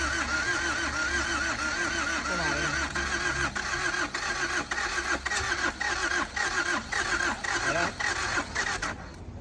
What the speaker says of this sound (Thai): สตาร์ทรอบที่สองเครื่องของเราเหมือนไม่มีกำลังอัดเลย